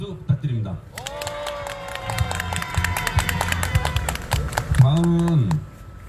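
An outdoor crowd at the 1427th Wednesday demonstration over Japanese military sexual slavery breaks into a burst of clapping, rapid close handclaps running for about four seconds, mixed with voices before and after.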